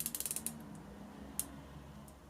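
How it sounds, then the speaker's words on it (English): A Breitling Superocean II Abyss unidirectional 120-click bezel turned by hand, a quick run of crisp ratcheting clicks up close, then a lone click after a pause, otherwise quiet. "It is a unidirectional 120 click bezel action, really solid, very easy to turn, no play at all"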